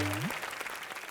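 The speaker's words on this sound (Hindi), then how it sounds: "जोरदार तालियां।" Audience applause at a televised comedy entertainment night: a brief, dense wash of clapping from a crowd, following the tail of a voice.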